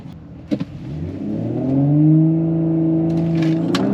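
An Audi B9 S4 with a Stage 1 tune on E40 fuel revs up hard and holds a rising, droning roar as it launches down a drag strip quarter-mile, with a couple of sharp clicks near the start.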